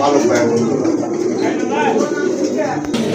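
Pigeons coo in low, rolling murmurs close by, partly beneath someone talking over them.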